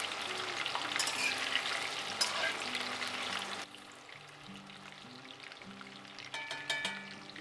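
Potato pieces frying in mustard oil in a pan for an Odia mutton and potato curry, a steady close sizzle with stirring scrapes that eases midway and picks up again near the end.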